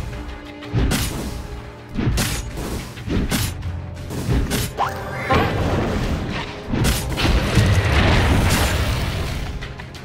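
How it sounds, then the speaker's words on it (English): Combat in Dota 2 around a tower under attack, with heavy booms, crashes and whooshing effects piling up loudly and continuously, no talk. "Radiant's middle tower is under attack."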